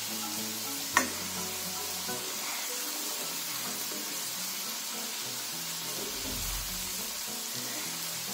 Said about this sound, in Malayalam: തുടരെ തുടരെ ഇങ്ങനെ ഇളക്കിക്കൊണ്ടേയിരിക്കണം.